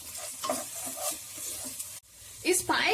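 Onion with ginger garlic paste sautéing on high flame, with sizzling and the scrape of stirring in a pan and a brief pause before a louder burst of frying.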